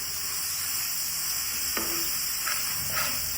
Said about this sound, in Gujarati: આ રીતે આપણે ધીમે ધીમે હલાવતું જવાનું છે